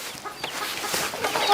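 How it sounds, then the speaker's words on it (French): Chickens and roosters cluck and squawk continuously in a poultry yard on a farm in Côte d'Ivoire. Several birds call close by, overlapping in busy, irregular bursts. "On a commencé par des poules, des poulets, des coqs et tout ça"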